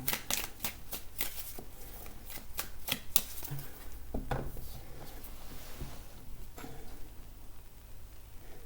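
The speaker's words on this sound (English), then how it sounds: "just going to cut the deck" A deck of tarot cards being shuffled and then cut, a quick run of crisp riffling flicks and soft taps, close and fairly steady, with no talking.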